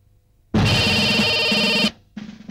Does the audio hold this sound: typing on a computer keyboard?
no